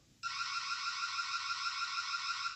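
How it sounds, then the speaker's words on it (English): Reolink Argus 4 Pro solar-powered security camera sounding its motion-triggered siren, a loud, steady, piercing electronic tone that starts abruptly and holds for over two seconds. "So you got a siren. So make an alarm when it detects motion."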